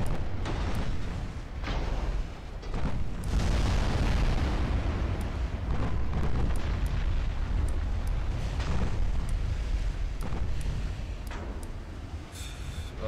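Naval gunfire in the warship game Ultimate Admiral Dreadnoughts, dense heavy booms and rumbling blasts rolling on continuously, loud and full, with sharper cracks scattered through.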